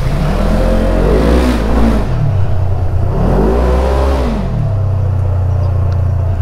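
A 2022 Polaris General XP4 Deluxe side-by-side driving at low speed, its engine droning close and steady with a few rising and falling rev swells, heard alone with no talking.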